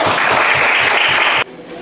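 A group in a classroom lesson claps together loudly and close, a rhythmic burst of hand claps that stops abruptly near the end, leaving quiet room tone.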